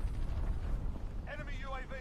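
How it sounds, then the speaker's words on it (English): A cruise missile explosion in Modern Warfare gives a low, sustained rumble of blast noise that rolls on for about a second. A voice then talks over the tail of the rumble. "Enemy cruise missile incoming."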